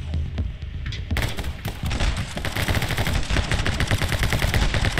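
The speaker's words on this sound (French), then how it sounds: "là, je tire en même temps sur deux personnes" Rapid video-game gunfire in My Friend Pedro, a dense continuous barrage of loud shots that begins after a brief quieter moment and runs without talk.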